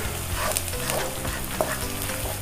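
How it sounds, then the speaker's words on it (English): Finely chopped green chili fries in a pan with a dense, continuous sizzle and faint crackles, close and steady with no voices. "Now to this I'm going to add some finely chopped green chili"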